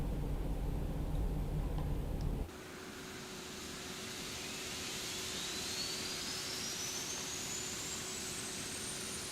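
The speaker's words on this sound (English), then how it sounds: "we're going to start with engine number 4" Engine number four of an Airbus A340-600 starting up in the X-Plane 11 flight simulator: a loud rumble cuts off, then a steady hum and a rising turbine whine build gradually.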